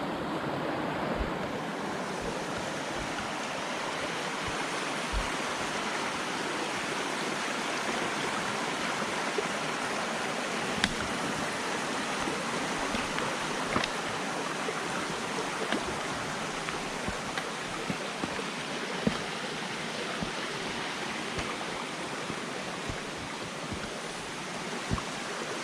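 A creek flows steadily on a wilderness hiking trail, a constant broad rush of water that stays close and even throughout, with occasional small clicks and light wind.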